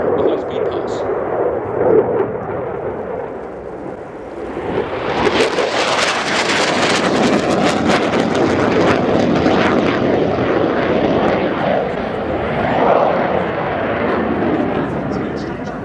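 A Royal Air Force Typhoon FGR.4 jet makes a high-speed pass at an air show, its roar swelling suddenly to a loud, rumbling blast that lingers as it passes, with an announcer talking throughout.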